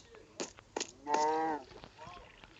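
A cow moos once in a long, strongly harmonic bellow at mid-volume, preceded by a few short sharp noises and a fainter low call trailing after, in a rural setting.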